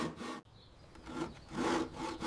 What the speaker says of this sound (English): Position your saw and let the weight of the tool do the work.